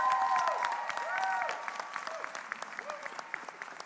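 Audience applause for the runner-up team at an international commercial arbitration moot final: scattered, fairly quiet claps under sustained tonal sounds that swoop in pitch.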